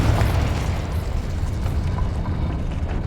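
A Confringo explosive spell blast in Hogwarts Legacy, a loud, dense rumbling burst that stays heavy and sustained for about three seconds with no quiet gap.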